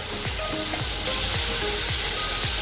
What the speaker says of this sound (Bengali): মশলাটা একটু ভাজা ভাজা হলে তারপরে লবণ দিচ্ছে।